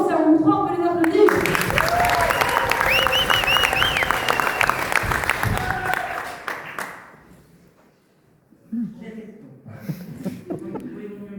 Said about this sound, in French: Bonne chance à vous 3, on peut les applaudir.